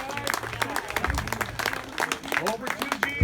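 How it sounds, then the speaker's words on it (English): Applause and clapping from a crowd at a bass fishing tournament awards ceremony, a dense mix of hand claps and cheers under a speaking announcer's voice throughout. "Give a round of applause for Jake Howard,"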